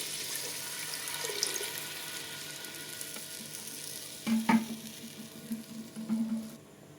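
Water poured into simmering fish curry gravy (chepala pulusu) in a pot, a steady sizzling hiss with bursts of pouring and bubbling midway, near and moderately loud, no talk.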